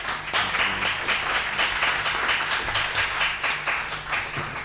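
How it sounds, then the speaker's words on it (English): An audience at a panel event on AI and press freedom at the Foreign Correspondents Club of Thailand claps in a busy patter of individual hand claps, moderately loud throughout. "please join me in a round of applause for our panelists."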